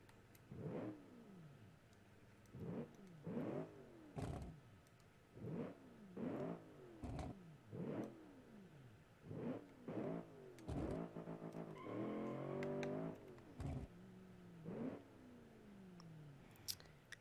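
A car engine in BeamNG revs hard again and again in rhythmic bursts, each rising whine snapping off, ending in a rougher sputtering roar and a few quieter revs.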